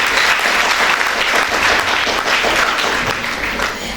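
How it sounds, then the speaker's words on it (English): Audience applause at a school event fills the hall with steady, dense clapping from many hands, loud and unbroken throughout. "Huge round of applause for ma'am."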